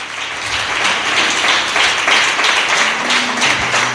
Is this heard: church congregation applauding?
yes